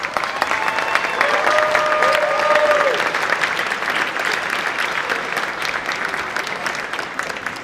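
A school audience applauds 8th grade band students at a spring band concert with steady, full clapping that fades slightly toward the end, while a few brief whistles rise above it.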